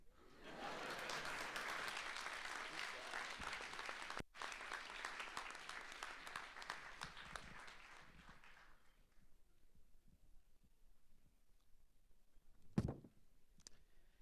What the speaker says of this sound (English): can we give our distinguished speakers another round of applause?